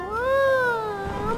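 A person imitates a cat's meow while playing GTA 5 with a cat skin: one drawn-out, rising then falling mew, close and clear.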